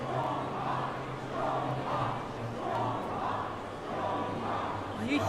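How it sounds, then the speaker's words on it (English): A crowd in The Great Ace Attorney Chronicles cheers in repeating rhythmic swells of chanting voices, moderately loud and looped, with a low steady tone beneath. "Why are they cheering for him?"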